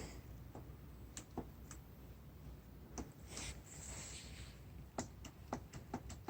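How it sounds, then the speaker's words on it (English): Faint, sparse clicks from the starter solenoid on a 1986 Harley-Davidson Soft Tail, a handful of light ticks spaced irregularly over a low background hum, with no voices. "I can hear just a little bit of clicking out of that solenoid."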